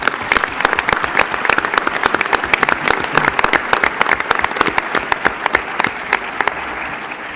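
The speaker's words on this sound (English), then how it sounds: "Would you all give a round of applause to these individuals?" An audience applauds staff from the weather forecast office and river forecast center at an emergency management talk, the clapping loud, close and crisp, with many sharp individual claps over a dense wash that tapers slightly near the end.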